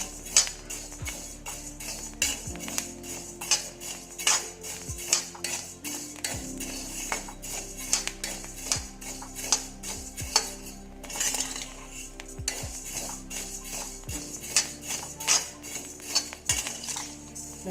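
Rice roasting in a pan for Kerala ari unda, with repeated scraping and clinking of a spatula against the metal pan and faint popping crackles, close and steady across the whole stretch.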